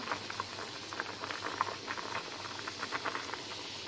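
Fish rice porridge with squid simmering in a pot, a steady soft bubbling and popping patter that sounds close and continues evenly throughout, with no voices.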